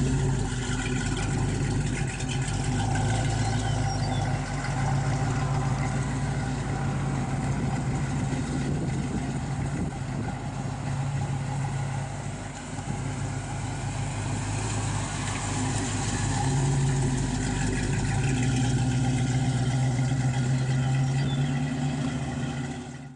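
A 1970 muscle car, Buick GSX, Chevelle SS, Olds 442 or Pontiac, idles steadily with a deep, loud rumble close by, the engine note swelling slightly now and then as it runs without any talk.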